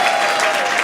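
Steady applause from a storytelling show audience in the Chicago area, a sustained wash of clapping hands with no pauses, fairly loud and close.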